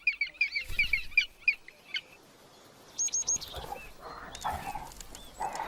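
Woodpecker chicks calling from the nest, a run of high, repeated chirping calls followed by scattered squeaky cries over a noisy outdoor background, with no talk.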